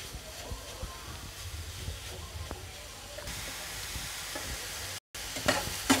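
Grated carrot for carrot halwa fries and gets stirred in a pan, a steady close hiss and sizzle with occasional scraping strokes, briefly cutting out near the end before resuming.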